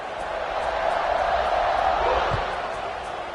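In the College Football 26 video game, a stadium crowd cheers as a broad, steady roar that swells slightly and then holds.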